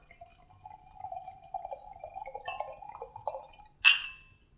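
Blackberry melomel mead, an 11% bottle, poured into a glass: a close, quiet trickling stream rising slightly in pitch as the glass fills, ending with a sharp clink of glass.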